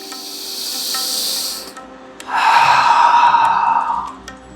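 A long, airy inhale followed by a louder, breathier exhale in a slow deep-breathing relaxation exercise, close and alone without talk.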